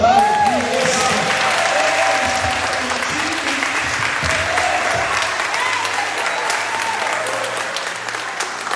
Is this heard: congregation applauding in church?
yes